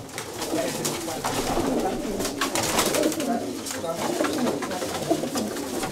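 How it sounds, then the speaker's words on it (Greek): Pigeons coo in a loft where the birds have gathered up high, soft repeated throaty calls close by, mixed with flutters and someone talking in Greek over them. "Ναι, πολύ δυνατά περιστέρια"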